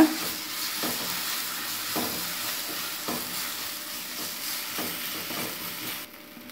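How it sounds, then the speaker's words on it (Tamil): Onion with ginger garlic paste frying in a pan, a low steady sizzle broken by regular scraping strokes of a spoon about once a second, quiet and close. "அதில் இஞ்சி பூண்டு பேஸ்ட்டு கொஞ்சமாக சேர்த்து அதையும் ஃப்ரை பண்ணிக்கோங்க"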